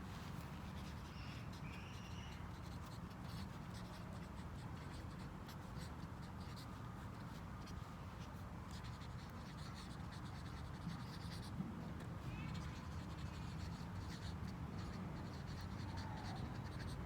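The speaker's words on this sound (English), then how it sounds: "Let me just write that down." A pen scratches steadily across paper, close but soft, in continuous strokes with a faint background of distant birds.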